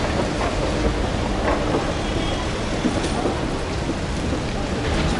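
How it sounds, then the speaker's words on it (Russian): Steady rain falls in Istanbul, giving a dense, continuous hiss at an even, fairly loud level with no pauses or voices. "Опять идет дождик."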